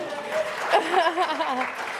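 An audience claps and cheers at a costume jewelry event during New York City Jewelry Week. Brief applause and a whoop rise under a speaker's voice, moderately near and not very loud.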